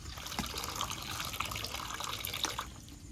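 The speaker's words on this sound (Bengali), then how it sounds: "এখন আমি আলুগুলো ধুয়ে নেব ভালো করে।" Water splashes and runs steadily as potatoes are washed by hand, a continuous close, bright trickle and slosh with small bumps, no voices.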